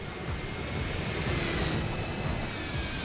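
Turbine-like whine of a gas turbine powered car racing the Nordschleife in Assetto Corsa, a steady loud roar with a high thin whistle held throughout, no voices over it.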